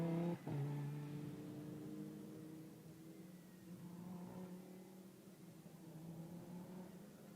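A Lamborghini Super Trofeo race car at Spa-Francorchamps passes through the chicane, its engine note falling and rising as it brakes and accelerates, heard at a distance and moderately faint.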